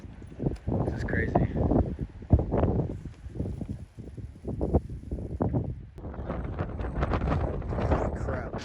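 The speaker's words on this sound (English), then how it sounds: "it has been a windy 24 hours, to say the least." Strong desert wind gusts across an exposed campsite at Sand Hollow State Park, blowing dust around; a loud, continuous rushing and buffeting roar that rises and falls over the whole stretch.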